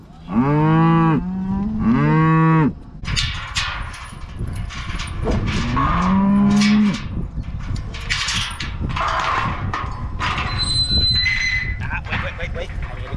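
A herd of cattle lowing near a pasture gate, with several loud, drawn-out moos close by, two back to back at the start and another a few seconds later, then fainter calls and shuffling under continuing talk.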